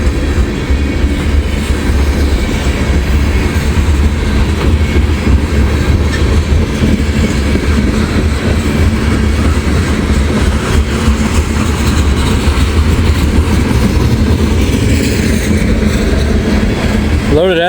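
A Norfolk Southern freight train with oil tankers rolls through Hamilton, a loud, steady, continuous rumble of heavy wagons and wheels on rail close by, with a voice speaking faintly underneath.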